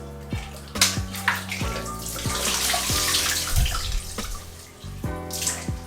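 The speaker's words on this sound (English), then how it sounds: "I'm going to wash my face" Water runs from a tap into a sink while someone washes their face, a close, steady splashing gush broken by a few sharper splashes and drips.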